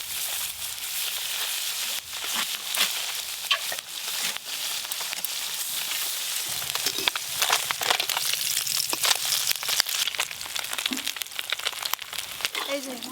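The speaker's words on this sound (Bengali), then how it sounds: "তেল গরম হয়ে গেছে, এবার মাছগুলো ভেজে নেব।" Puti fish frying in hot oil fills the kitchen with a steady, dense sizzle and crackle, with small pops and spatters scattered throughout.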